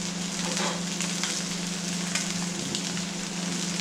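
Marinade sizzling hard in a hot pan as it deglazes for a burger sauce, a dense, steady frying hiss held close and loud throughout.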